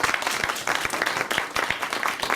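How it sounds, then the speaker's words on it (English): A room of attendees at a law alumni speaker series applauding panelists, dense continuous clapping throughout the short stretch, fairly close and even. "give them a round of applause"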